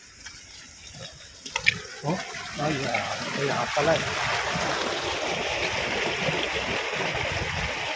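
Floodwater rushing across a flooded farm field, a steady broadband wash of flowing water that swells after the first couple of seconds and continues loud and constant, with a voice speaking briefly over it.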